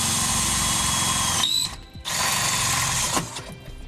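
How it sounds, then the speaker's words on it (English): A power drill bores a pilot hole through a Curt adjustable-width trailer hitch on a 2017 Forest River Rockwood RV, whining steadily and close, pausing briefly, then resuming before easing off. "I'll drill a pilot hole."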